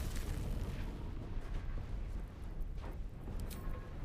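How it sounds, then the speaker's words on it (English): A deep, sustained rumbling blast roars through an explosion in Baldur's Gate 3, loud and dense throughout, with a brief softening midway before the low booming surges again. "Explode."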